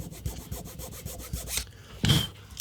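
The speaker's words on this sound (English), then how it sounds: "I'm just gonna take this file, run that over that a little bit to embiggen it a tiny bit" A hand file rasps across a prop part in a series of short, close strokes, with a sharper, brighter scrape near the end.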